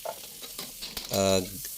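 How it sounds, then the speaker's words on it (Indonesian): Vegetables sautéing in margarine in a pan, a steady close sizzle with stirring scrapes and a louder, denser burst of frying partway through. "Nah, next kita akan buat mix vegetablesnya ya. Ini kita saute"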